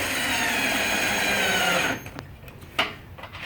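Power drill driving screws while building a raised garden bed: a loud, steady motor whine holds for about two seconds, then cuts off, leaving a few faint knocks and clicks.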